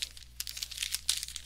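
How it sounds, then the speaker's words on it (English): Pokemon trading cards get shuffled by hand, giving a quick run of soft papery riffles and crinkly flicks, close and quiet with no talking. "Alright, so now I'm going to shuffle these."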